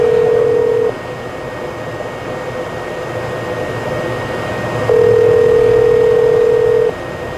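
A phone call to a customer from an auto repair shop working on a Honda Odyssey opens with a steady dial tone. The tone cuts out, then comes back loud and continuous for about two seconds over faint background hum.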